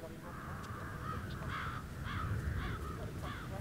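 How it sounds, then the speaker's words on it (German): Crows cawing in the Hitman 3 video game, several rough repeated caws over a steady low ambient bed, moderately loud with no talk over them. "Ich wollte doch nur die Vögel verscheuchen."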